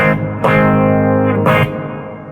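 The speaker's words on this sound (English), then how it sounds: "and now there's some nice reverb" Sustained, distorted guitar chords are struck twice through a guitar amplifier's reverb effect. Each one rings out with a spacious reverb tail that lingers and slowly fades.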